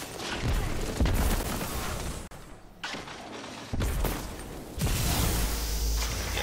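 Sniper rifle fire in the shooter game Destiny 2 comes as several loud, sharp blasts with dense crackling battle noise filling the gaps, a continuous barrage of game combat sounds.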